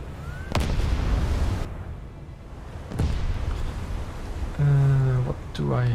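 Battleship secondary guns firing in a naval warfare game, with sharp booming shots spaced a second or more apart, mixed with other battle noise and a brief tonal alarm-like sound near the end.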